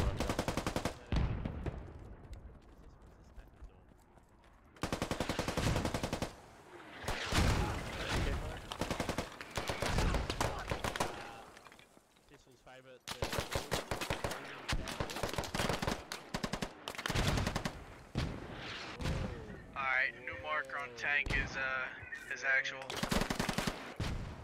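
Rapid automatic rifle fire in a shooter game rattles in long, loud bursts, separated by brief pauses, with sharp close shots and a voice talking at times in between.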